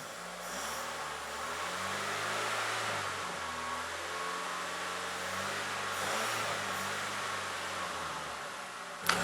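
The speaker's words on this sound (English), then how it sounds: "Give the engine a few good revs." A car engine revs up and settles several times during throttle body cleaning, a steady mechanical drone with a hissy, fan-like wash, heard up close and fairly quiet.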